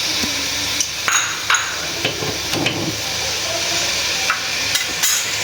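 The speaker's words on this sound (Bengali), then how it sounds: "এবার এই চাল খুব ভালোভাবে কিন্তু আমাদেরকে 5-6 মিনিট ধরে ভালোভাবে এটা ভাজতে হবে" Rice is stirred and fried in a pot with seasoned meat for a children's biryani. A constant loud sizzle and hiss runs throughout, broken by occasional scraping knocks of the spoon against the pot.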